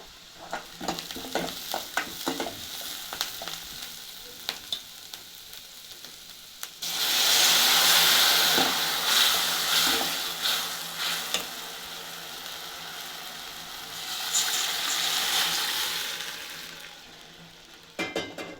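Chopped tomatoes going into a pan of frying onion and green chilli tempering for a tomato saaru, starting with light stirring clinks before a loud burst of sizzling that eases and then flares again.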